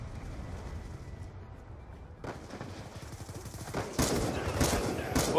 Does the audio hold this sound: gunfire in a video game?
yes